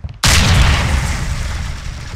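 A flashbang grenade going off in Ghost Recon Navy SEALs CQB training, one sudden loud close bang that slams in from near silence and then settles into a long rumbling ring-out.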